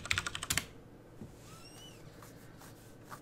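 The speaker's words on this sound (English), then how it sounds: "type in your password." A short burst of quick keystrokes on a Mac keyboard, about seven close taps in the first half second, followed by quiet room tone and a few faint clicks.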